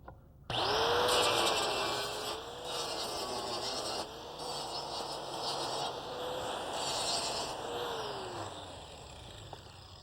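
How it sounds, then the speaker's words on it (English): An angle grinder grinds weld spatter off a metal decorative sign post, a loud steady whine running for about nine seconds with slight pitch wavers as the disc bears on the steel. "There's also a little bit of splatter here too. We'll take that off with the grinder."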